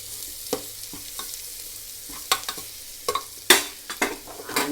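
Sprouted moong beans sautéed with onions in a pan give a soft steady sizzle under sharp scraping clicks of a spatula stirring at irregular moments, close and without talk.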